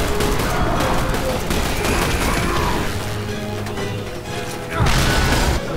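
Chaotic gunfire and crashing impacts during combat in The Bureau video game, dense and loud, with a burst of explosive noise near the end and no talking.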